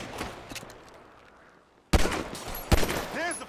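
Grand Theft Auto V shootout: after a quiet stretch of distant noise, sharp bursts of gunfire crack out near the middle and again shortly after, with faint voices in the background.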